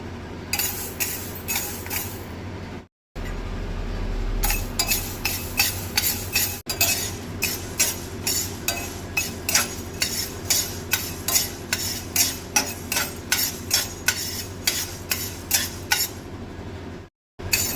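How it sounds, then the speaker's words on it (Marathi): Moong beans are dry-roasted in a pan with steady, rhythmic stirring, each stroke a crisp scraping rattle of beans against metal, repeating closely and loudly for a long stretch. "मूग आता भाजून घेवंक जाय"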